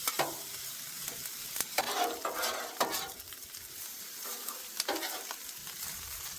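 Shrimp fried rice with butter being stirred and fried on a Blackstone griddle, a steady sizzle broken by repeated scraping spatula strokes as chunks of rice are broken up, close and fairly quiet, with no talking.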